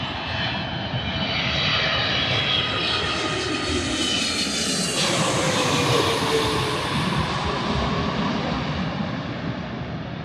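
A large airliner roars overhead at Vancouver airport. The loud, sustained jet engine noise swells and holds for about ten seconds, and no voices are heard.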